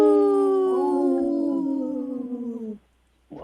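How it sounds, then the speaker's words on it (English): Wolves howl together as a pack, layered long sliding tones that fall in pitch and fade out after nearly three seconds, loud and close, then a brief sound begins just after. "That was a good pack howl, you guys."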